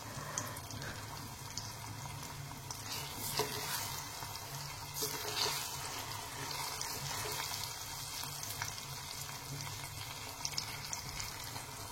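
Tadka spices frying in oil over a low flame for dal: a quiet, steady sizzle and crackle with occasional soft stirring sounds, close but faint and without voices.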